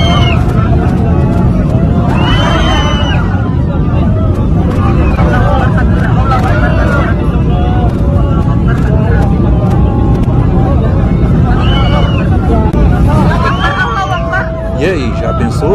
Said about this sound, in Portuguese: Imagina você dentro de um avião, voo tranquilo, calmo, quando de repente